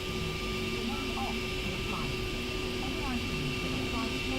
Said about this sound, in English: Spooling up the Rolls-Royce engines.